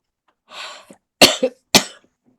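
A person gives a short breathy throat sound and then two sharp, close, loud coughs in quick succession, with quiet in between.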